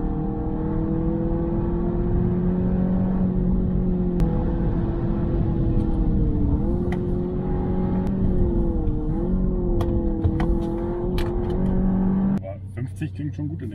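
A VW Golf 8 engine hums steadily from inside the cabin, rising and dipping in pitch as it revs, then cuts to quieter noise at the end.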